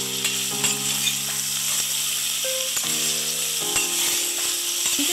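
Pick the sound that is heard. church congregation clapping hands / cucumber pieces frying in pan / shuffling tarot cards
cucumber pieces frying in pan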